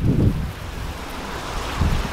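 Water sprays steadily from a RainPoint automatic garden watering system running from a tap that is not fully open, giving a continuous broad hiss with slightly heavier gushes at the start and end. No voices are heard.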